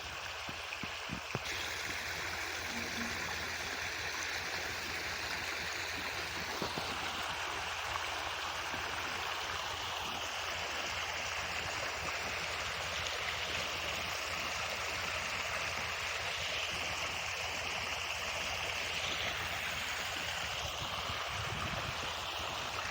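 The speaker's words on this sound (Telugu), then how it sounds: "ఈ విధంగా పైపులు వేయడం ద్వారా ట్రాక్టర్ను ఉపయోగించి కొద్దిపాటి ఖర్చుతో వర్షాభావం కలిగినప్పుడు ఈ విధంగా నీటిపారుదల చేయవచ్చు" Water runs through pipes, laid with a tractor's help, to irrigate a rain-fed chickpea field during a dry spell. It makes a steady, unbroken rushing hiss over a low, constant hum, with no speech.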